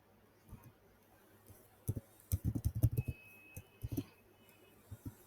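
Computer keyboard keys tapped in short bursts while entering a spreadsheet formula, sparse clicks at first, then a quick cluster of close, crisp keystrokes before a few final taps.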